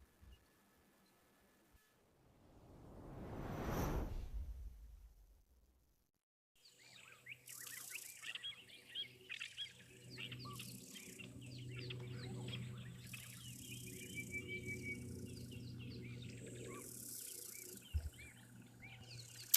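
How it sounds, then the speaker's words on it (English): Many birds call at a waterhole in the African bush, a dense chorus of chirps, whistles and trills filling the scene, with insects buzzing underneath and a rushing gust or passing sound just before the chorus begins. "favorite locations just because of all the bird calls, everyone. It is a feast for the ears here at Juma."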